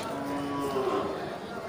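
Aceh cattle mooing in a low, drawn-out call that rises briefly, with steady background noise of a busy livestock area.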